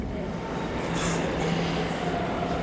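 A train rumbles steadily at a basement-level platform of a large German station, a continuous low roar with hiss and faint squeals echoing under the enclosed platform.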